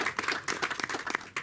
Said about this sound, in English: I would like to ask you a round of applause